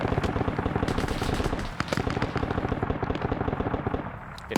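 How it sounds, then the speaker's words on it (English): .50 caliber machine guns firing in a video game, continuous rapid rhythmic bursts of heavy automatic fire, fairly distant and steady, with a short pause midway before the firing resumes. "50 cals are firing."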